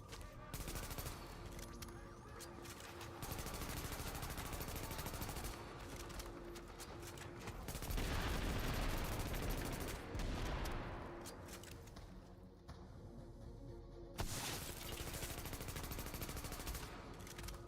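Sustained gunfire in The Division, heavy overlapping bursts of automatic fire and blasts in a chaotic firefight, loud and nearly continuous with short breaks between volleys.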